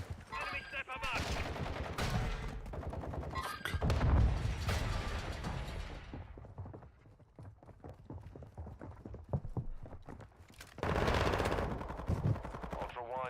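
Gunfire in Call of Duty DMZ, rapid automatic bursts and loud shots early on, a quieter lull with scattered sounds, then another heavy volley near the end, with voices speaking over parts of it.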